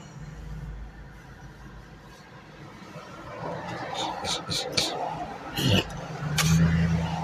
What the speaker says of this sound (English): It's a lot of traffic. I wasn't expecting this.